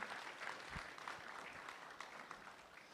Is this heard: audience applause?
yes